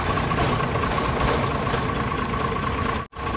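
A truck engine idles in a steady, loud, close drone with a constant low throb and a faint tonal hum, cut off abruptly near the end.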